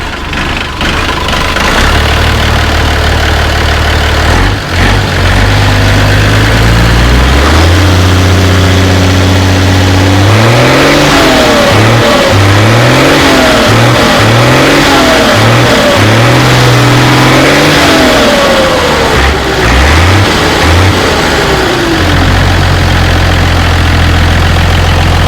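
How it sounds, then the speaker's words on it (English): An MB Trac tractor with a freshly changed engine and new manifolds idles with a low, loud diesel rumble. It then revs up and down repeatedly in several surging bursts before settling back to idle. "I'll just give it a rev and let you hear it"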